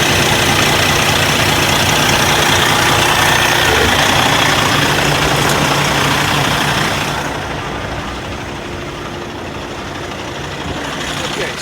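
A 2014 Kenworth T660 truck engine idles with a steady low rumble and broad noise, loud and close throughout, easing slightly quieter partway through.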